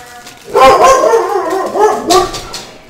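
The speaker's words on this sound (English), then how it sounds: "we have 2 dogs now" Dogs barking indoors in a busy family home, a few loud, close barks and yips in quick succession, with a brief whimpering tone between them.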